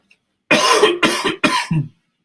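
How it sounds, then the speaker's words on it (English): Several harsh coughs in a quick burst, close and loud, followed by a short throaty catch, with silence before and after. "Sorry if you hear my coughing."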